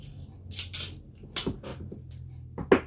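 Several crisp scissor snips and clicks come in short bursts over a low background hum, close and moderately loud.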